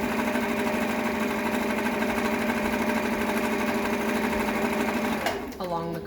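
A sewing machine runs steadily, stitching a quarter-inch seam on a fitted fabric face mask, a loud continuous motor whir with rapid needle chatter that stops abruptly near the end as it winds down.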